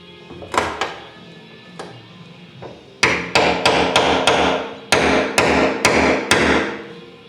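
Hammer blows on a chisel break corroded tabs off a truck's rear fuel tank, first a few scattered metallic strikes, then two rapid series of sharp, loud, evenly spaced hits close by.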